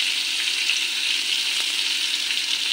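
Mango pieces fry in a pan for a sweet-sour chutney, a steady, even sizzle with a bright hiss running continuously and close by.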